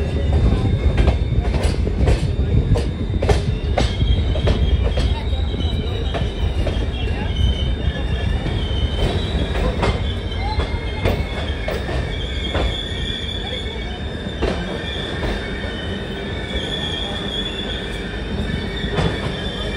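The Devagiri Express runs on the rails near Jalna in India. Its loud, continuous rumble is broken by rhythmic clickety-clack from the wheel joints and high wheel squeals, heard close up.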